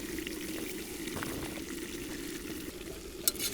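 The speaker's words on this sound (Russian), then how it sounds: "Ну и все, вкидываем туда лучок." Onion sizzling with meat in a pan for plov, a steady, quiet frying hiss with faint crackles and one small clink of a utensil.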